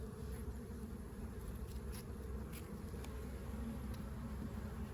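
Dense, continuous buzzing of many honeybees close by at a hive, a steady droning hum without pauses and no voices.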